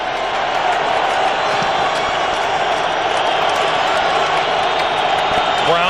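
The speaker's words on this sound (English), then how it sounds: "So the crowd coming alive here on 3rd and 12." A large stadium crowd at a 2002 American football game, New England at Detroit, roars steadily and loudly on third and 12, a dense sustained wash of cheering voices with no clear individual words.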